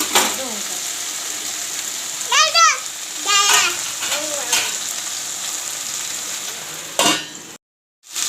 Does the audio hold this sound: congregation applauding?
no